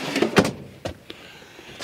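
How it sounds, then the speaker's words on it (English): A drawer beneath the refrigerator in a 2000 Roadtrek 200 Class B camper van slides open with a loud clunk, then a couple of softer knocks and a rattle, close and with no voices. "another drawer that pulls out underneath the refrigerator."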